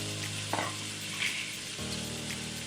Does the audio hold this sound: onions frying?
yes